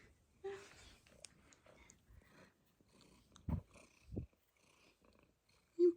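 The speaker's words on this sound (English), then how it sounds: "purring." Pet cat purring up close, a soft low rumbling purr that fades in and out amid quiet household noise and a few brief bumps, without talk.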